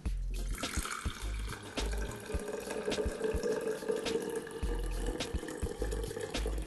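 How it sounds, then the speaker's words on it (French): Strawberry-infused water poured through a chinois sieve: a steady trickle and splash of liquid running into a container, close and continuous, with faint low thumps underneath and no talk. "il ne vous reste plus qu'à les filtrer en les passant dans un chinois."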